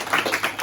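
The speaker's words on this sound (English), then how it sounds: "Give yourself a round of applause." A short burst of audience clapping at a speaking talk, a quick pattern of claps close together with a faint voice mixed in.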